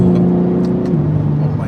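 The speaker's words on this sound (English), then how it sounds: "this is a BMW M4 competition" A BMW M4 Competition accelerates hard, its engine a loud, close, steady drone that drops in pitch partway through as if shifting gear, with faint speech in the background.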